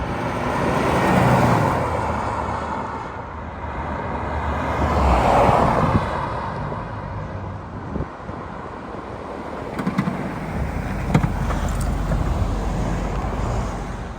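A 1987 Jaguar XJ-SC V12 drives past outdoors in repeated flybys, its engine swelling as it approaches near and fading away, with a steady road and wind rush beneath and no one speaking.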